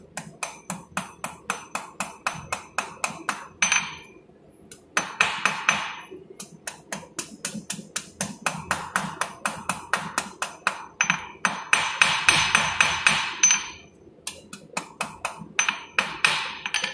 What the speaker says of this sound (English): Let's get a nice sharp point right on the edge of the anvil.